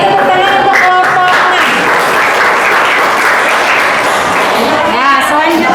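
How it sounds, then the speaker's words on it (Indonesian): A class of eighth-grade pupils claps for a group that has just presented, a loud, dense burst of applause filling the whole stretch, with voices and a few sung or called tones over it at the start and end. "Beri tepuk tangan untuk kelompok"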